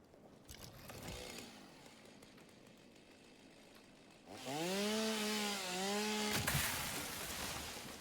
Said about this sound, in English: Chainsaw above me.